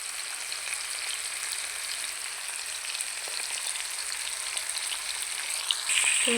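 Chicken meat frying in a pan for a spicy home-style chicken bhuna, a steady close crackling sizzle throughout with a few brief stirring scrapes near the end.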